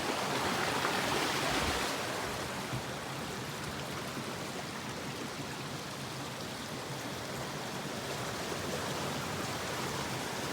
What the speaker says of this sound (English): River Crossin!